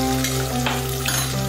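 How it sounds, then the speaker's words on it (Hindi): Onions fry in oil in a pan for fried rice, giving a continuous close sizzle with brief scraping strokes as they are stirred. "ओनियंस जब तक ये गोल्डन ब्राउन ना हो जाए हम इसको इसमें फ्राई करते रहेंगे, स्टिर करते रहेंगे और फ्राई करते रहेंगे।"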